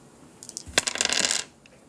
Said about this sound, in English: I'm going to use the dice of destiny.